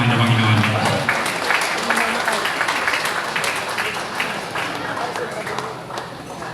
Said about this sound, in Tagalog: Palakpak sa ating mahal na Panginoon